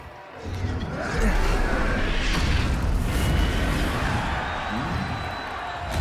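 A Confringo blasting spell explodes in the Hogwarts Legacy video game, a loud, sustained, rumbling blast that swells and holds for several seconds amid battle noise.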